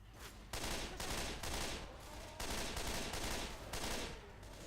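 Rapid bursts of gunfire in the zombie shooter Left 4 Dead 2, loud and dense, coming in several sustained volleys with brief lulls between them and no talking.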